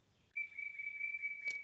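A cuckoo clock in a kitchen gives a sustained, fairly loud whistling tone that holds steady for over a second, with a brief sharper burst near the end over faint background noise.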